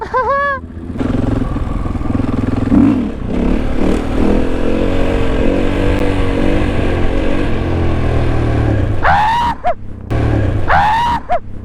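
A new motorcycle's engine revs and drones steadily near the microphone, overlapped by loud honks and shrill shouted voices at the beginning and again near the end.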